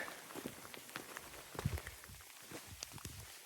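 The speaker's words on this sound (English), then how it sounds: "The rain's starting to get us." Rain pattering on a surface outdoors at a fossil dig site, a steady light wash of drops with footsteps crunching along as someone walks back to a car.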